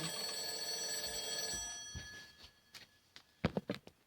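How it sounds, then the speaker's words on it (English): A telephone rings with a sustained electronic tone that fades out, followed by a few soft thunks and clicks nearby. "The phone's ringing."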